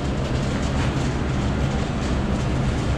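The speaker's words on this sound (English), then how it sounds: "Sorry for the fan noise." A loud ventilation fan drones steadily with a constant broadband whoosh and low hum, unbroken throughout, no voices.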